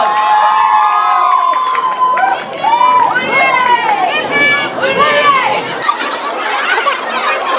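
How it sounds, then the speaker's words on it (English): A loud school audience at a Christmas carol awards event cheers and shouts continuously, with many excited children's voices overlapping close by and scattered clapping underneath. "Give them a huge round of applause"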